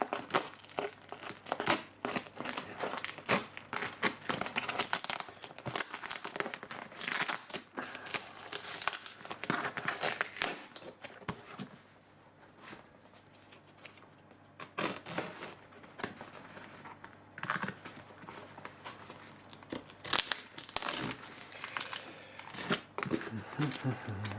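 Packing tape being torn off a package, with repeated crinkling, ripping and crumpling bursts, close and loud, easing off midway then returning, while a person talks over parts of it.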